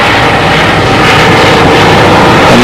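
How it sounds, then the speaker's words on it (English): Military helicopter flying overhead, a loud, steady roar of engine and rotor that fills the whole stretch with dense broadband noise and no pauses. "And another military helicopter, boy, they don't fool around."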